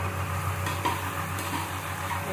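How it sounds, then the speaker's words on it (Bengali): Stink lily (ol) is sautéed with spices in a pan, a short burst of low, steady sizzling with soft stirring scrapes close by. "ওলটাকে মশলার সাথে ভালো করে কষিয়ে নেবো।"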